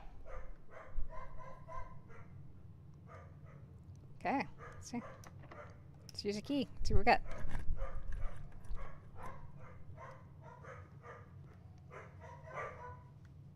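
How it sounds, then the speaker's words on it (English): Dogs bark in the background during a Blue Prince game stream, muffled rhythmic barks in repeated bursts across the whole stretch, mostly underneath a person speaking close up. "Sorry about the dogs, you know,"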